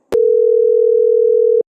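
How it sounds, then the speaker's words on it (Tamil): A telephone dial tone in a cartoon sounds as one loud, steady, continuous pure tone lasting about a second and a half, starting after a click and cutting off abruptly. "திரும்பியும் ஃபோன் அடிப்போம்"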